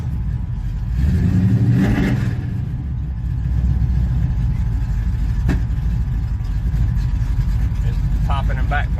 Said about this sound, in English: Popping and backfiring, not even touching the throttle